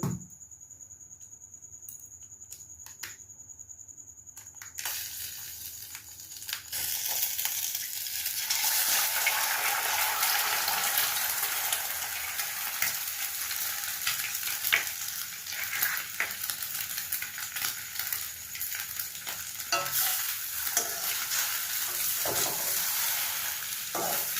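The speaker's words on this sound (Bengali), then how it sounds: "এবার তেলটা আমার মোটামুটি প্রায় গরম হয়ে এসছে এবার আমি দিয়ে দেবো এতে ডিম" An egg drops into hot oil for chowmein and sets off a sudden loud crackling sizzle after a quieter start, then keeps spitting and popping steadily up close with no talking.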